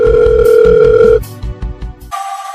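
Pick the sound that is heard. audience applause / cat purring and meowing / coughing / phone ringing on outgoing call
phone ringing on outgoing call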